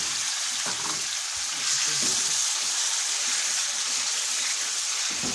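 Chicken shawarma pieces fry in a little hot oil, giving a steady broadband sizzle with a few soft clinks and stirring touches, close and continuous with no talk.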